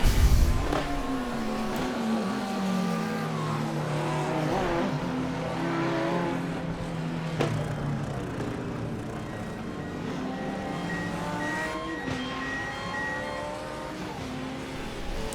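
GT3 race cars in a racing video game drive into the pit lane, engines droning and shifting pitch as they slow, with a steady close hum and occasional revs and tyre squeal.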